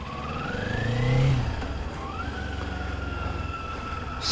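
A 2023 Kawasaki Z400 motorcycle pulls away in gear, its engine note climbing loud and close, dipping at a gear change, then rising again. Nobody speaks.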